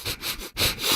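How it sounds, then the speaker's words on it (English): Close, loud sniffing at freshly washed laundry scented with Downy Unstoppables, two long breathy inhales separated by a brief pause, with no voices. "And now a sniff solo."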